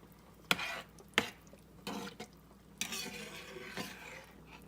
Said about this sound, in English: Fully mix it good, incorporate all those spices and seasonings.